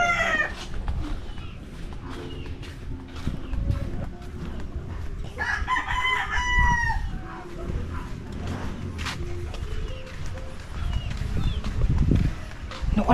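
Chickens cluck around a new house's yard while a rooster crows loudly in the middle, over a busy outdoor background with other fowl calls and scattered knocks.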